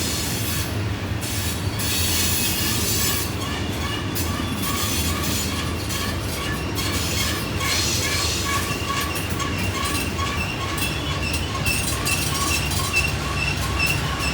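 Heavy loaded coal train with pusher locomotives easing downhill around Horseshoe Curve, Pennsylvania, cars rolling past close by with continuous high wheel squeal, rhythmic clickety-clack and a low rumble throughout.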